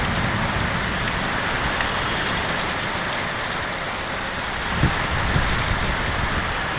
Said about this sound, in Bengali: ঝড় এবং বৃষ্টি দুটাই হচ্ছে